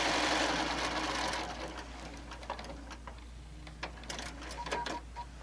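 A sewing machine stitching an oven mitt runs in a fast, steady whir at the start, then stops, leaving faint clicks and handling noises, all fairly quiet.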